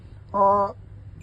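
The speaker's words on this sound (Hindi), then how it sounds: "सोर्स पे चेक किया, बीप जनरेट हो रहा है" A digital multimeter's continuity beep sounds while probing a Dell Inspiron 5520 laptop motherboard: a single clean, steady electronic tone of under half a second in an otherwise quiet room.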